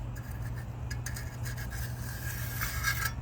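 Steady, faint scraping and rubbing as a cement garden stone is smoothed out in its mold, a continuous gritty rasp lasting a few seconds with no speech.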